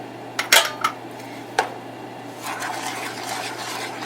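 A utensil scrapes and clinks against a pot as simmering kimchi paste is mixed, giving a few sharp knocks early and then softer steady stirring and rubbing over a low hum.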